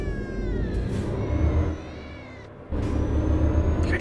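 A cat meows in a long, strained, wavering cry, two drawn-out calls close and loud over the steady low rumble of a truck engine in a driving game.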